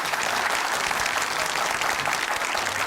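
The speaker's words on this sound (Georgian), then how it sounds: "პირველი აპლოდისმენტებით ვაჯილდოვებთ ქალბატონ ეკა მამალაძეს" An indoor audience claps loudly and steadily to pick the winner of a contest, a dense continuous ovation with no talking.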